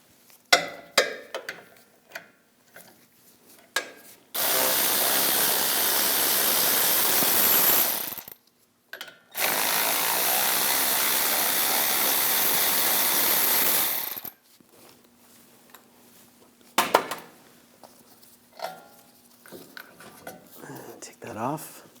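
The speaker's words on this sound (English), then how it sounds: "Now we'll take these two bolts out. Use a 18mm socket. Loosen those up and take those out." A power tool with an 18mm socket loosens front brake bolts on a 2015-2022 Chevrolet Colorado: two loud sustained whirring bursts of several seconds each, with clicks and ratchet sounds before and after.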